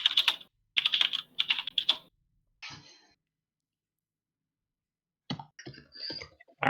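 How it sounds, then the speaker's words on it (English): Loud clicky keyboard typing in quick bursts of clattering keystrokes, separated by short pauses, with a brief throat-clearing sound in between. "Liam, I will say your clickety clack is louder than you"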